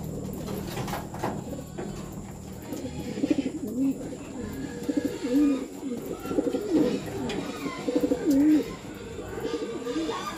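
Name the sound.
racing pigeons cooing at the loft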